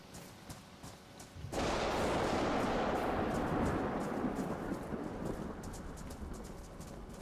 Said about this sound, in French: il va continuer à pleuvoir là